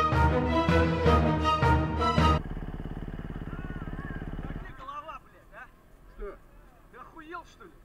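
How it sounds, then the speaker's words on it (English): Motorcycle engine running on a beach, a steady mid-pitched drone that holds for a few seconds after loud overlapping voices, then fades as speech continues. "the noise of the bike was in the way"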